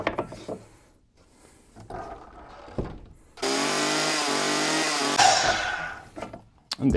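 A power saw rips through a piece of wood in one loud, steady cut of about two seconds, preceded by quieter handling knocks and followed by clatter as the pieces settle.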